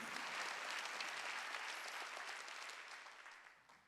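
A church congregation claps together during a worship service, a dense, continuous wash of many hands at a steady level that tapers off slightly toward the end.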